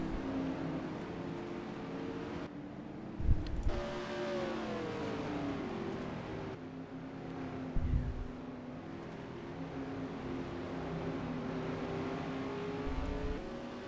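Race truck engines rev and drone continuously in a sim racing game at 70/77 Speedway, a steady layered mechanical hum with a few brief louder bursts, no talking.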